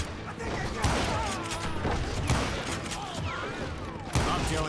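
Gunfire in the Call of Juarez Gunslinger game: a steady barrage of rapid shots with sharp louder cracks near the start and end, dense and continuous throughout.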